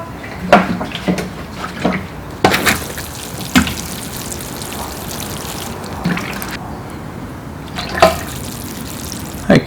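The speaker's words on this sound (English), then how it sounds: "So I'll just water that now." A newly potted juniper bonsai made from nursery stock is watered, with splashing pours and drips coming in bursts over a low trickle, close by, with no voices.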